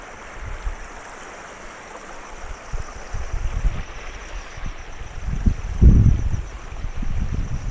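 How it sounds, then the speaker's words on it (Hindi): A small river flows down from the hills between green terraced fields on the road from Almora to Jageshwar, giving a steady broad rush of water with low rumbling gusts and no voices. "छोटी सी नदी पहाड़ों से निकल कर आ रही है"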